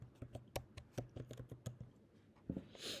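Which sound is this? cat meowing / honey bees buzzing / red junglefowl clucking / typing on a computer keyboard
typing on a computer keyboard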